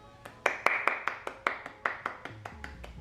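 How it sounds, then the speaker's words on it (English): About a dozen evenly spaced claps ring out quietly, one person clapping at a steady, slow beat, with no talk. "round of applause for you"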